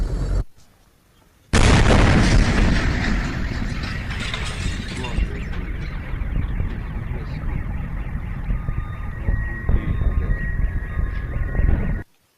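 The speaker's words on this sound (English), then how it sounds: "those sounds, those explosions were the meteor exploding" A sudden loud blast breaks a brief silence, followed by a long rumbling roar with rattling and an alarm-like tone sounding through it, from a meteor exploding in the sky.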